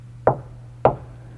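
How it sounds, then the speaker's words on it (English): Two sharp knocks land on the door of an Aptera solar electric car, about half a second apart, crisp and close over a low steady hum. "To open the door, you knock twice."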